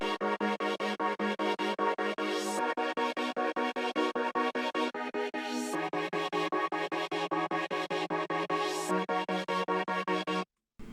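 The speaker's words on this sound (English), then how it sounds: "And then we also have these stab chord layers. They sound like this." Layered synth stab chords hammer out a steady, rapid pulse of short, dense chord hits, with the chord shifting lower partway through and a few rising swept accents, all loud and continuous before a brief cutoff.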